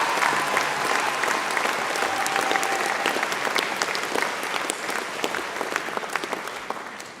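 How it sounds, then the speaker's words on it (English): An audience at a university graduation ceremony for the Faculty of Health, Education and Life Sciences breaks into a big round of applause, a thick wash of many hands clapping that slowly thins and fades toward the end. "Big round of applause"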